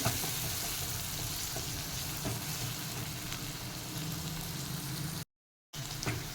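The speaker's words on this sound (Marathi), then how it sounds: "कांदा परतून झालेला आहे" Chopped onion sautéing in a pan for a Mysore masala dosa filling, a steady close crackling sizzle with occasional stirring scrapes, briefly cut to silence near the end before resuming.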